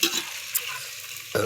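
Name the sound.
corn flakes frying in oil for homemade chavanu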